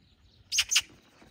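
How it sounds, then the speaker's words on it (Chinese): A magpie gives two quick, harsh chattering calls close by, standing out against quiet outdoor background. "又飞来了一只喜鹊"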